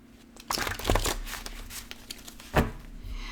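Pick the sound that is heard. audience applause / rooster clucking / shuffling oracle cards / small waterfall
shuffling oracle cards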